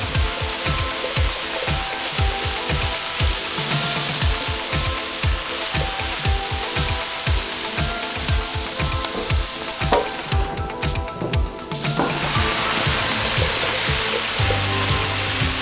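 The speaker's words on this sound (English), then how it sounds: "Give it another stir." Potatoes and broccoli crackle loudly in a hot pan as a utensil scrapes through them in quick, rhythmic strokes. The sizzle stays steady and close throughout, swelling briefly near the end.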